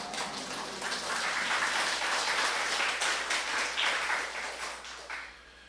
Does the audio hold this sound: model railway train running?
no